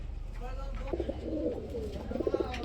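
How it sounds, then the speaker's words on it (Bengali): Bombay Lahori pigeons kept for sale coo softly in repeated rhythmic bursts, close by, with faint talking in the background. "কবুতরের জোড়াটা খুব সুন্দর চমৎকার"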